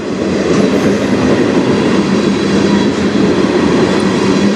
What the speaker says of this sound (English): Decent sized train. Oh, he's up to speed now.